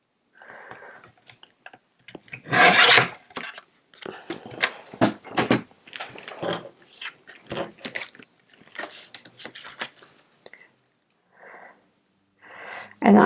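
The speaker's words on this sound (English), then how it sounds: "I'm going to trim this on each side." Paper from a recycled Christmas card is trimmed along each side, giving close, crisp bursts of cutting and rustling in irregular clusters with short quiet gaps.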